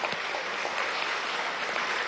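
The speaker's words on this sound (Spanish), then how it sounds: "Bueno, un gran aplauso." A crowd at an outdoor graduation celebration in Venezuela breaks into loud, dense clapping, a continuous roar of many hands at full strength from start to finish.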